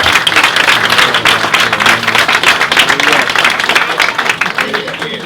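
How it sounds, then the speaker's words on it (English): Dense, loud applause from a large crowd at an outdoor march keeps up as continuous clapping and cheering throughout, with voices mixed in. "Give him a round of applause."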